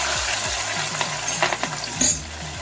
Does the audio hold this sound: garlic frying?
yes